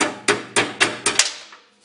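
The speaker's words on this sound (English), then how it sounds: "Maybe I'll try tapping it with a hammer." A claw hammer taps a part on a shaft while fixing a Frantom split nut feed dog: five sharp, evenly spaced metallic knocks, close and clear, with the last one ringing out briefly.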